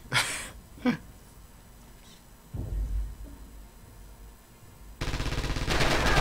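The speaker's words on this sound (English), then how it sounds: "We hear PPSH fire." PPSh submachine gun fire in a competitive video game match: short sharp bursts open the clip, a quieter stretch follows, then sustained rapid fire rattles loudly through the final seconds.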